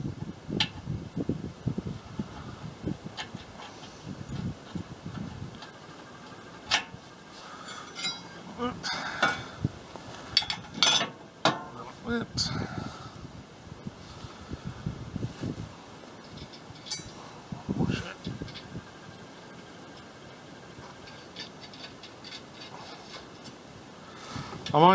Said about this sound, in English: I'm only doing the nuts and bolts up finger tight at the moment